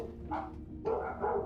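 Dogs bark in a few short, close yips and woofs, alert and fairly loud, with no talking over them.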